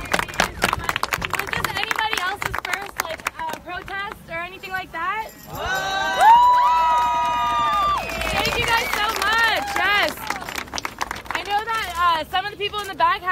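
Protesters inside a Whole Foods store chant in rhythmic bursts, punctuated by claps and a long rising cheer in the middle, with crowd voices all around.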